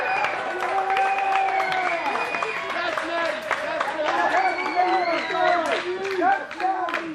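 A wrestling crowd cheers for Neo-Affliction in a ring match, steady crowd noise and scattered clapping at moderate volume beneath an announcer's ongoing commentary.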